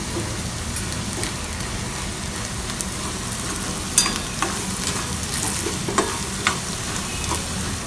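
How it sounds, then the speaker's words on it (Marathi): Vegetables with turmeric sautéing in a pan make a continuous close sizzle, with occasional scraping clicks as a spoon stirs them. "चमच्याच्या साहाय्याने परतून घेणार आहोत आणि हळद सुद्धा टाकून घेणार आहोत"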